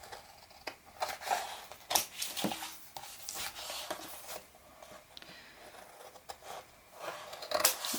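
Scissors snipping paper at an angle to miter corners, a series of crisp, close cuts in an uneven rhythm with short pauses between snips.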